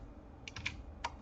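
Several quick keystrokes on a computer keyboard, close and fairly soft, tapped in a short irregular burst then one more key after a brief pause.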